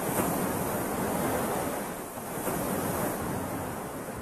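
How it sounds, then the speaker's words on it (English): Waves pound the shore of Lake Tanganyika in a steady, continuous roar of surf, with wind noise blending in and no voices. "with waves pounding its coastline"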